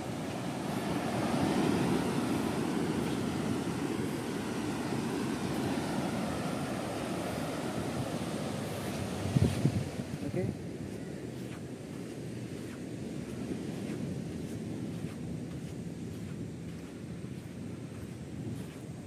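A river current collides with sea waves at Ungapan Beach in South Malang, rushing water roaring continuously, waves and current churning together in a broad wash of noise, with wind buffeting the microphone.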